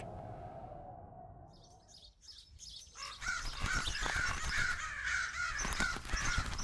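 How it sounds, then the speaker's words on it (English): Several crows caw repeatedly in a loud, harsh series, the calls coming close together and overlapping after a quieter opening. "Bloody crows."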